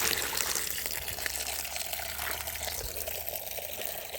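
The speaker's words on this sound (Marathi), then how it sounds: "भाजी तर तोडली, आता बाहेरच चांगली धुवून घेते ती" Spinach leaves washed outdoors under running water in the evening: a steady, full gush and splash of flowing water that continues throughout, fairly close, with no talking.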